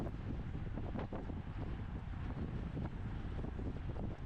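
Wind roars steadily across the microphone during a 50-plus open bicycle race, a dense, loud, continuous buffeting with no voices.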